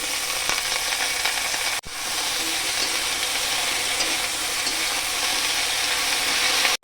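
Taro stolons frying in hot oil with garlic, onion and green chilli give a loud, steady sizzle, broken by one brief gap, close by with no talk.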